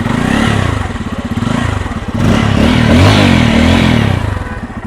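Bajaj Pulsar N250 motorcycle exhaust blipped close-up, a throaty low-pitched burble that swells with a couple of revs, steady and loud with no talking over it.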